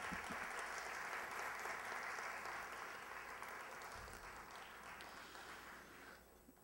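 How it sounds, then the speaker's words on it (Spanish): Audience at a women's recognition ceremony in Miraflores applauding an honoree; sustained, even clapping from a sizable crowd, slightly distant, gradually thinning and fading toward the end. "El aplauso para Silvana Sarabia Arce"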